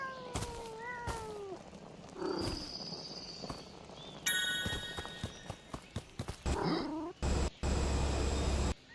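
A cat meows a couple of times with rising, wavering cries in a comedic fantasy game, mixed with clicks, chimes and other game effects, and louder noise bursts near the end.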